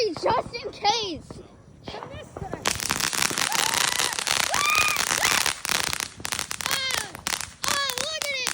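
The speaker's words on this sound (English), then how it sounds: "Up next is Little Legend by TNT Fireworks." Little Legend, a TNT Fireworks consumer firework, goes off outdoors with a rapid run of loud crackling pops and whistling bursts, while an adult and someone talk and exclaim over it.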